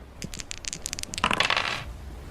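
A rapid clatter of small hard objects tumbling and rattling, like dice rolling across a surface, ending in a brief bright jingle before settling; dice roll in a dungeon-fighting video game.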